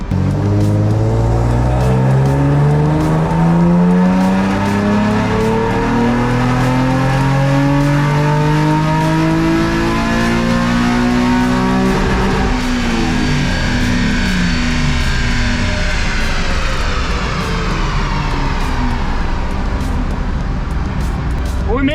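A car engine on a dyno pulls hard in 4th gear with Admin intakes, loud and steady as the revs sweep upward, then it climbs again toward a high-pitched peak near the end.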